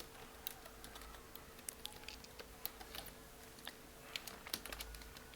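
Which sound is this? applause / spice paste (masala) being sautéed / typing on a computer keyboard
typing on a computer keyboard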